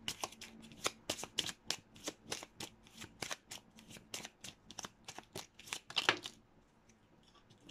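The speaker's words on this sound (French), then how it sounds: "Je vais tirer notre carte" Oracle cards being shuffled and drawn, a quick run of crisp riffling slaps and flicks that repeat steadily at close range, with no voices over them.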